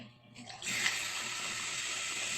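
Water runs from a tap into a glass being refilled, a quiet start swelling at under a second into a steady, close hiss of flow that holds to the end.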